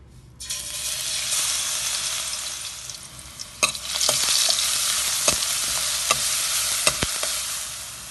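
A freshly ground spice paste hits hot oil with a sudden loud hiss that settles into a strong steady sizzle, punctuated by sharp spoon scrapes and clacks against the pan, close up with no talking.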